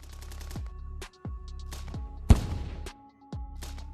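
Gunfire and a grenade blast during an infantry assault on a dugout: repeated sharp shots with decaying echoes and one louder burst near the middle, heard at a moderate distance with no talking.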